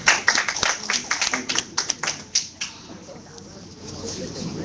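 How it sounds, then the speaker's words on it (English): An audience at a pitch competition event claps for the speakers, a sparse, uneven burst of close individual claps that thins out after about three seconds into quiet room noise. "Let's give them a huge round of applause."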